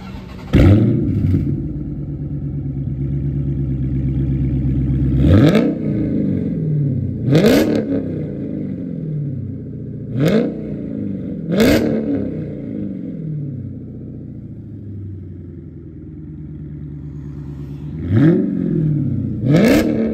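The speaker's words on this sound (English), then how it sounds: "I'm gonna let y'all hit a startup and then I'm gonna let y'all hit the revs" A Chrysler 300 SRT 392 V8 engine starts up, then idles with a deep burble between several sharp revs that climb and fall back, loud and close.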